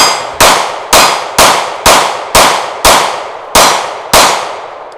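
Eight sharp pistol shots from a SIG P365 ring off steel targets in a fast, even rhythm, each one a loud metallic clang that decays quickly before the next.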